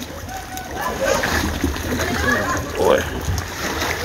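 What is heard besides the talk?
river water splashing around a boat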